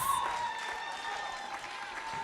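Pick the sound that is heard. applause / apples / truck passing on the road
applause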